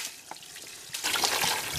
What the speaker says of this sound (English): so the water is running nice and clean